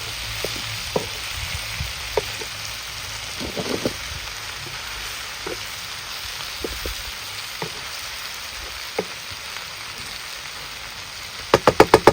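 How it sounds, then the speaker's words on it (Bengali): Fish and mushrooms fry together in a pan outdoors in a garden, giving a steady crackling sizzle with scattered pops and utensil clicks, ending in a quick run of sharp taps. "এই যে মাছ ভাজি আর মাশরুম ভাজি একসাথে"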